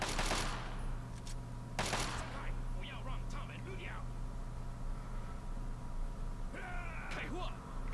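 Video game gunfire in Fallout 3 comes as two loud bursts early on, followed by scattered fainter cracks, while a voice talks over and between the shots.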